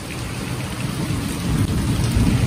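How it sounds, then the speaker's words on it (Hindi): Heavy rain pours steadily with low rumbling thunder building underneath, a dense continuous wash of drops growing louder over a few seconds, with no talking. "बारिश बहुत तेज आ गई है"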